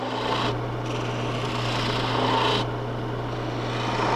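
A wood lathe turning a baluster, a steady motor hum under a continuous rasping cut as the tool rides the spinning workpiece, with the scraping swelling and easing over a few seconds.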